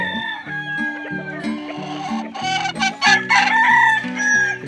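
A male red junglefowl crows repeatedly, loud and near, its harsh stepped calls following one another with brief gaps and no talk over them.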